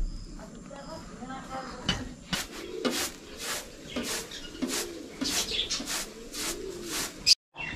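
Lovebirds at a farm stay resort chirp and coo in repeated short bursts at close range, with people talking in the background throughout.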